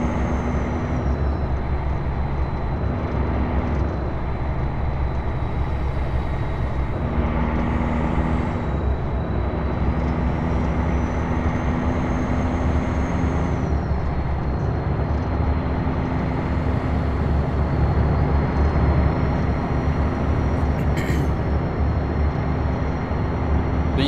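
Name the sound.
truck driving in the video game American Truck Simulator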